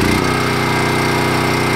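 A small petrol generator engine runs loud and steady at close range, a constant buzzing drone with a rapid pulsing beat and no voices.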